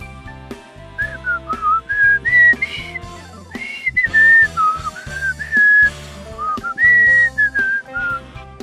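A person whistles the Star-Spangled Banner, a clear sustained melody with gliding notes and short pauses between phrases, carried over a low, soft musical backing.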